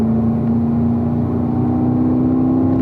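A Chevrolet Corvette accelerating on a race track, heard as a loud, steady engine drone with a strong low tone and a gradual rise in pitch as the throttle is squeezed on.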